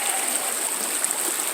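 A creek runs over bedrock in a steady, close wash of flowing water, a continuous bright rush with small gurgles and no voices.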